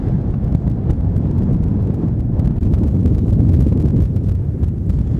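Strong wind buffets the microphone on a hillside along the Scottish Watershed, with a continuous low roar and gusty rumbling throughout, no voices.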